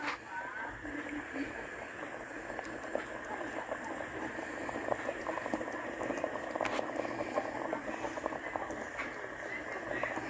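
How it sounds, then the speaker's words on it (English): Sausage, chicken and shrimp gumbo simmering in a pot with the lid cracked, a steady, low bubbling and faint popping that runs continuously and evenly at close range, with no voices. "Cooking up the gumbo"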